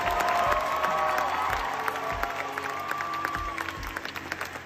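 A crowd at a film premiere at the BFI London Film Festival gives a standing ovation, with sustained applause and scattered cheers over a steady roar of clapping.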